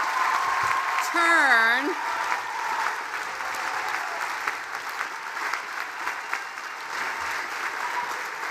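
Graduating seniors at an undergraduate commencement ceremony rise and applaud their families and friends; loud, sustained crowd clapping rolls on throughout, with a brief voice and a rising electronic tone near the start.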